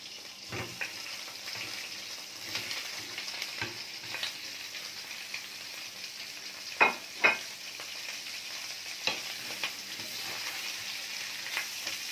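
Sausage fries in a pan: a steady, close sizzling hiss runs throughout, broken by occasional sharp pops and crackles, the loudest a pair of bursts near the middle.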